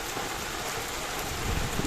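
Heavy rain blows sideways in a dense, steady hiss, close and enveloping, while waiting for a train, swelling slightly louder toward the end with no voices.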